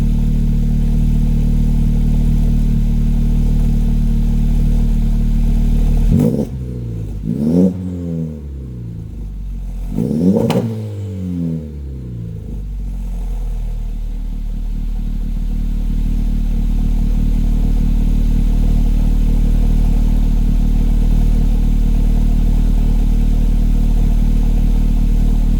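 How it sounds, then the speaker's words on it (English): A modified FK8 car's engine idles with a deep, bassy exhaust rumble, then revs up sharply twice in quick succession before settling back to a steady idle. "Here, I'll rev it for you a little bit."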